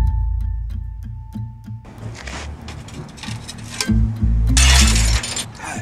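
A drinking glass shatters loudly and close by, with a burst of breaking and tinkling shards, after several sharp ticks, staged outdoors to look like a car break-in on a Tesla.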